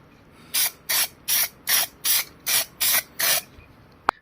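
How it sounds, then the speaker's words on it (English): Spray can applying primer to a brake caliper on a water-damaged Fiat Stilo Abarth, eight short, evenly spaced hissing bursts in steady rhythm, close and clear, followed by a faint click at the end. "And this is the first coat of primer."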